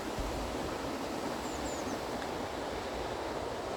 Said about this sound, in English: underneath the deck was actually the flowing river